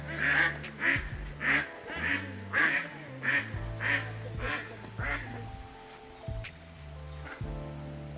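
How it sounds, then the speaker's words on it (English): Several ducks quack in a busy outdoor flock on São Miguel in the Azores, a run of loud, regular calls that grows thinner and more scattered toward the end. "It really is a duck party out here."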